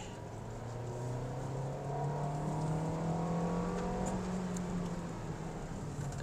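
Naturally aspirated 2024 Toyota Vios XLe engine revving steadily during a test drive, a droning note that rises gradually and holds, heard from inside the car with no talk.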